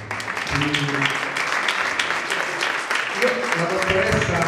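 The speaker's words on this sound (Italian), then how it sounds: "e un super applauso quindi a professor Farina, Rocco Marino e Va" Audience applause at an award ceremony in Venosa honoring a Sanremo recognition, a steady wash of clapping filling the room with voices mixed through it.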